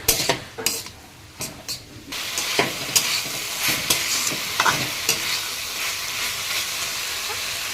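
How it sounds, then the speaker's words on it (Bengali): Food is stirred in a pan while salt and turmeric are mixed in, giving steady sizzling with scraping spoon strokes and a few sharp clinks near the start, close and alone. "এখন এটাকে আবারও ভালোভাবে নাড়বো আর কি মিক্স করে দেব নুন হলুদটা"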